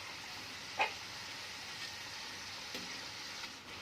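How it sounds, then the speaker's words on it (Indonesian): Cireng, tapioca fritters, fry in hot oil with a steady, soft sizzle throughout, marked by a couple of faint pops and crackles. "Balik cirengnya supaya tidak gosong dan goreng sampai warnanya itu kuning kecoklatan."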